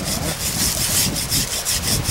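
A hand saw cuts through a persimmon tree branch during pruning outdoors, with loud, close, rhythmic rasping strokes repeating steadily back and forth.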